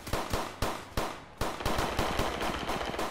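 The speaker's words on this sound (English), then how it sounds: "It's somebody else shooting from somewhere." Rapid video game gunfire: sharp loud bursts, first a few separate shots, then a quick automatic rattle of shots that keeps going to the end.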